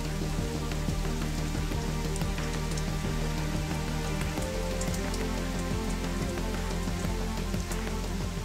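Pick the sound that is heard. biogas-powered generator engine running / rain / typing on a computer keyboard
rain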